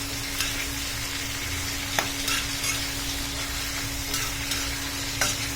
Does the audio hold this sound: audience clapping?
no